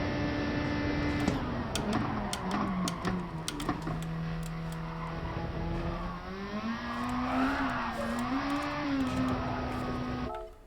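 Race car in the Gran Turismo Sport video game under heavy braking, a continuous engine drone whose pitch drops and then climbs again, with scattered tyre and clicking noises over it, ending abruptly.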